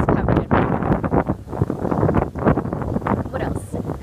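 Cold wind buffeting the microphone outdoors beside a flooded riverside lawn in Argentina, a loud, continuous roar and rumble with gusty surges and no gap.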